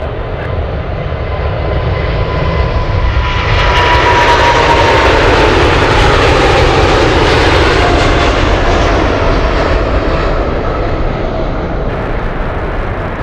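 An MD-11 takes off at Anchorage airport, its jet engines building into a loud, continuous roar that swells and stays heavy throughout.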